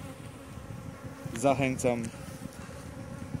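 Honey bees buzzing steadily at a hive in the background as a voice speaks briefly in Polish over the hum.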